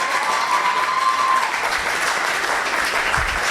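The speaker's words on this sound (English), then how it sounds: "Tell me if you agree by a round of applause that little Aaron should get a computer." A large audience at a spoken-word awards and recognition ceremony in Trinidad breaks into dense, sustained applause, a steady wash of many hands clapping from start to finish with no voices on top.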